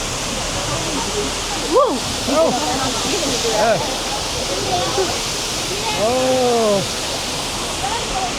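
A big waterfall roars in Milford Sound, New Zealand, heard up close from a tour boat as a steady, loud rush of water, while people cheer and exclaim over it.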